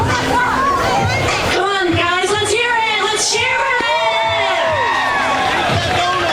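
A crowd at a college baseball game cheers and shouts between innings, a steady roar of voices and chatter close by, with an announcer talking over it.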